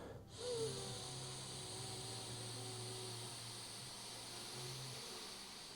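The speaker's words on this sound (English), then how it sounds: "Let's breathe up." A deep inhale drawn through the nose during a breathwork exercise, a single sharp snort-like intake followed by a long, quiet, steady airy breath over faint background hiss.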